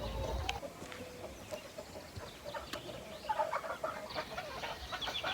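Backyard chickens cluck faintly in short, scattered bursts near a potato plot being dug in the rain, over a soft outdoor hiss.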